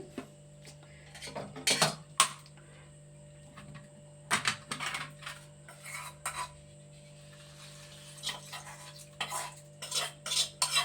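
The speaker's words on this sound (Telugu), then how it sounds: "ఇదిగోండి వేస్తున్నాను పోపు." Spices for a tempering tipped into a pan and stirred, giving close scraping and clinking strokes in short irregular bursts over a steady low hum, with no talk.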